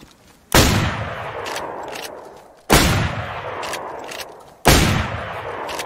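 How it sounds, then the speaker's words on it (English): Three loud, close gunshots in the DayZ video game, each a sharp crack with a long decaying tail, spaced about two seconds apart with no talking. "He's shooting you?"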